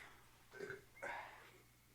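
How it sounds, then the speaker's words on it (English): A person burps after chugging an IPA beer, two low rumbling belches in quick succession, close and fairly quiet with no talking. "IPA burps are the worst, dude"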